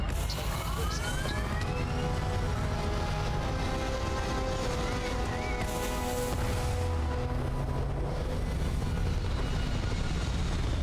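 A spaceship lifts off in the video game Starfield: a loud, continuous engine roar with rising and falling whining tones that fills the whole stretch.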